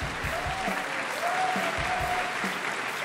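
Audience at an award ceremony in Bogotá claps for a student finalist, steady close-up applause with a few sharper individual claps standing out, and a brief voice or tone drifting over it.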